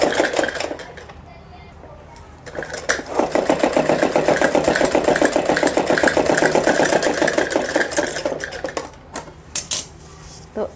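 A sewing machine stitches a design onto a Patiala salwar, running in a steady rapid mechanical chatter for several seconds at close range, with brief handling sounds before and after.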